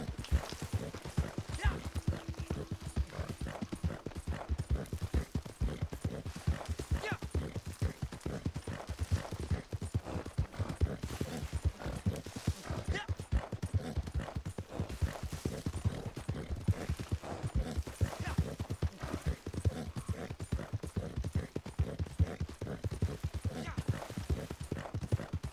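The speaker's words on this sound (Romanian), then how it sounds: "faci drifturul cu calul" Horse hooves gallop steadily through the open world of the video game Red Dead Redemption 2. The rapid, rhythmic clip-clop is close and continuous for the whole stretch, and faint game sounds lie underneath.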